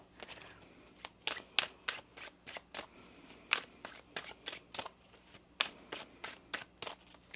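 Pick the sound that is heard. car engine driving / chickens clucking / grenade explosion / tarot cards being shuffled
tarot cards being shuffled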